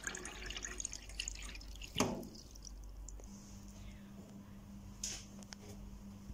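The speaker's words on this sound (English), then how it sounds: "So today I have to water it." Water poured from a glass onto an indoor potted plant lands in one sharp splash, followed by a few faint drips over a low steady hum in a quiet room.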